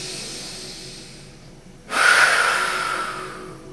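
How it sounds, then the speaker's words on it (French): A single loud, breathy exhalation pushed out through the mouth during a yoga breathing exercise, rushing in abruptly after quiet breathing and then slowly trailing off. "On va faire 3 grandes expirations"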